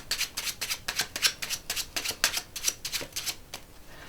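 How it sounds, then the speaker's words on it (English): Playing cards are riffled and shuffled in a quick rhythmic series of crisp, close flutters. "while I give these cards a bit of a shuffling"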